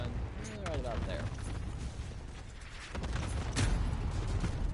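An explosion in Call of Duty: Modern Warfare booms with a broad rumbling burst, followed by further crackling blasts and debris, while someone talks over the noisy gameplay.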